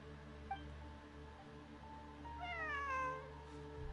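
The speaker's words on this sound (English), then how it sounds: "A cat?" A cat in the video game Genshin Impact meows with a rising, drawn-out cry over a steady ambient music bed. It is faint but clear and heard alone, without talk.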